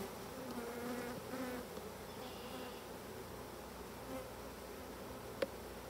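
Honey bees buzz steadily around an opened beehive at a club hive opening, a soft, continuous droning hum with no voices.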